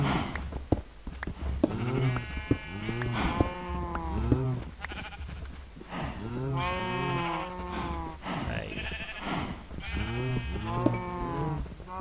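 Repeated sheep bleats from a Minecraft farm pen, many wavering calls overlapping across the whole stretch, fairly close and steady, with a little soft talk mixed in.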